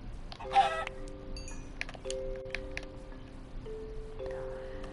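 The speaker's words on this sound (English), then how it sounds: "Okay, there's another chicken." Chicken in a Minecraft-style game, clucking a few soft, close times over quiet background tones, with no talking.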